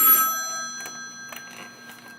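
A telephone rings in a shelter office, a faint repeated electronic ring with brief bursts over a quiet room hum.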